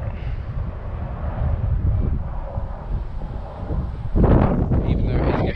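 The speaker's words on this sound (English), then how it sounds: "Even though it is getting absolutely battered by this wind, still going well." Strong gusty wind battering the microphone outdoors during a model plane's maiden flight: a loud, low, rumbling roar that swells and surges, with a harsher burst toward the end.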